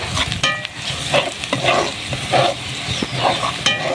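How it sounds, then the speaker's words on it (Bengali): Chopped onion and garlic fry in a pan until browned, for a poultry curry. A steady sizzle runs throughout, with repeated scraping stirs and clinks of the spatula close by, and no one speaks. "আগে থেকে কুচিয়ে রাখা পেঁয়াজ ও রসুন দিয়ে দেব। দিয়ে এটা ভালোভাবে লাল লাল করে ভেজে নেব।"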